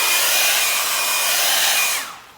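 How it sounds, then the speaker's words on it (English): A hair dryer blows over a solvent-based leather restorer with a steady, loud whooshing roar for about two seconds, then switches off and winds down quickly. "Give it a quick flash over with the hairdryer."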